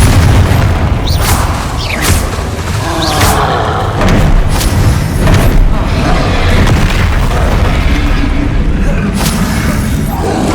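Confringo blasting spells explode in the Hogwarts Legacy video game, loud repeated booms and bursts packed into continuous combat noise, with a voice speaking over the fight.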